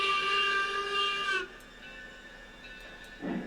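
A steam locomotive whistle in the train game Railroads Online blows loud and steady with bright layered tones for about a second and a half, then cuts off, leaving a quieter hiss and rumble with a brief low thump near the end.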